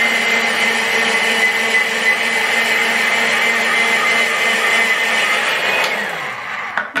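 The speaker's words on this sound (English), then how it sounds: "I'm chopping my zucchini using my salad shooter." An electric salad shooter grater shreds zucchini with a steady, loud motor whir and grinding that runs unbroken for several seconds, then winds down to a stop with a few clicks.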